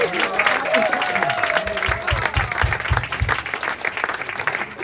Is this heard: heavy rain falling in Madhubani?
no